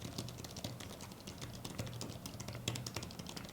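Fingers tap a portable tablet keyboard with contactless switches, giving light, fast, irregular clicks and soft thuds that carry on steadily and close by without any talking.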